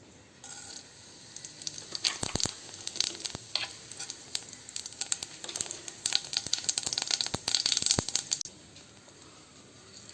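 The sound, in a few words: cumin seeds sizzling in hot oil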